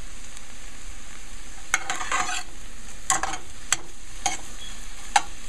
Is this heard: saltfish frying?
yes